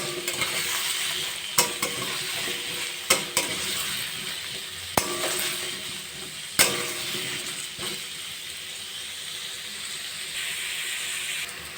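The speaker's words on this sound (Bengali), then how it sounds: "আলু শশা একটু ভালো করে ভেজে নেবো" Potato and cucumber frying in a pan give a steady hissing sizzle, with occasional sharp clinks and scrapes of a spatula against the pan at irregular intervals. No voices.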